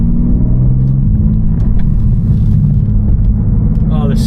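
BMW G87 M2 engine rumbling loud and steady from inside the car while driving, with a deep continuous drone and faint shift changes, and a voice speaking over it.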